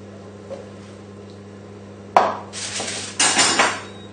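A fish slice scrapes braised lamb shank and vegetables from a metal pan, giving a sharp clank followed by two bursts of close, grating metal-on-metal scraping, with no talking.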